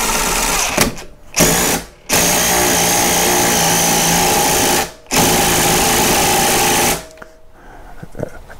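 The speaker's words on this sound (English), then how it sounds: "Torque spec for that is how far the impact can go." An impact wrench tightens a bolt on a commercial Toro mower in several loud, sustained bursts of buzzing hammering, separated by brief pauses, close and with no voices.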